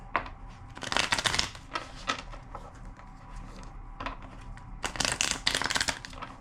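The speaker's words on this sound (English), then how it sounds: "2 more shuffles" A deck of tarot-style cards is shuffled by hand in two quick riffling bursts, crisp fluttering close up with softer taps and handling in between.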